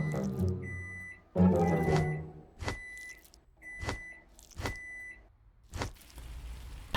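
A malfunctioning microwave in a video game gives a run of sharp electronic beeps interleaved with clunky mechanical bursts and hums, stopping and starting irregularly in a quiet room.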